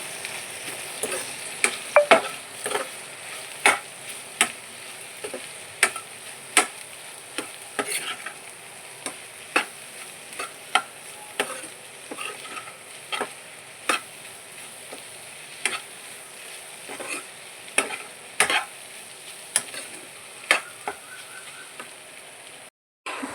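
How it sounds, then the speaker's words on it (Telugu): Capsicum fries with spices in a pan, a steady sizzle running throughout, punctuated by sharp, irregular scrapes and clicks of stirring, close and fairly loud with no voices. "అన్నిటిని కూడా చక్కగా మిక్స్ చేసుకోవాలి"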